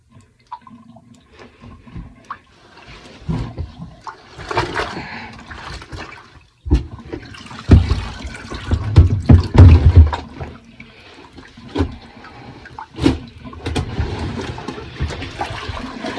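Dirty wash water from hand-washed clothes poured and draining out of a bathtub, irregular gushing splashes and gurgles in several bursts, close and fairly loud.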